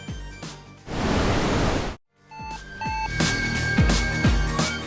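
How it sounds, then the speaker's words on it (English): A Mercedes-Benz E-Class W213 Pre-Safe Sound interference signal plays through the car's sound system as a loud burst of broadband noise, then a brief silence, then dense layered tones and pulses. "a short interference signal is issued automatically through the sound system"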